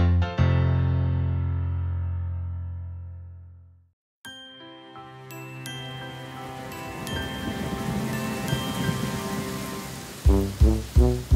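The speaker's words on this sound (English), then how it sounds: "Rain, rain, go away." Rain patters steadily under tinkling music in a children's song. A bell-like chime fades out first, and then the hiss of falling drops comes in alongside the bright tones.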